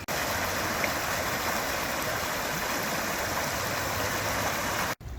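Water rushing steadily in the River Tay just upstream of a canal dock, a close, even, broadband flow with no talking, cut off abruptly near the end.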